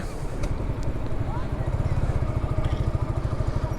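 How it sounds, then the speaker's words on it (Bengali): Royal Enfield motorcycles ride on beach sand, their engines giving a steady, throbbing low rumble that stays loud and close throughout, with faint sounds above it. "সমুদ্রে বাইক চালানো কিন্তু এত সহজ না"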